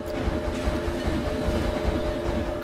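Several trains run around a track in the Planet Coaster video game, with a continuous rattling rail clatter and a sustained tonal hum throughout, fairly loud and with no talk.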